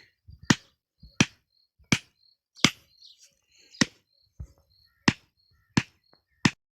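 Sharp repeated blows of a hammer driving a stake into the ground to anchor a quail-catching net outdoors, about eight evenly spaced loud strikes with faint background noise between them.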